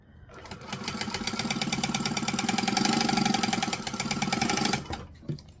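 A sewing machine stitches fabric in one continuous, rapid mechanical run of about four seconds, loud and close, then stops with a couple of clicks.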